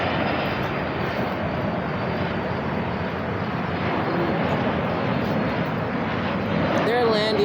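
Airplanes landing at the Cleveland, Ohio air show make a loud, continuous engine drone that fills the scene. People talk underneath it.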